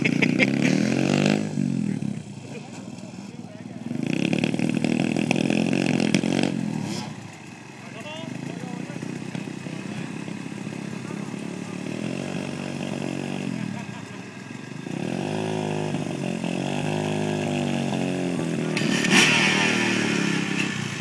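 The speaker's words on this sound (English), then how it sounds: "Just get used, Mike, get used to revving it a bit so you can feel it drop off and stuff" Dirt bike engine being revved by a first-time rider in Cornwall, rising and dropping in bursts of throttle, close and loud, with people talking over it at times.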